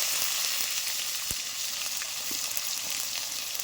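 A tomato hits hot oil seasoned with whole spices and sizzles in a dense, continuous hiss, close and steady, with a faint clink partway through.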